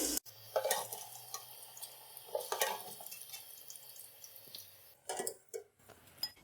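Golden-fried potatoes are lifted out of hot oil for a spicy dhaba-style aloo dish: scattered metal scrapes and clinks with light dripping and a low sizzle, fairly close, with no talking.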